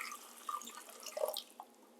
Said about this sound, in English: we're going to pour the hot water on top of that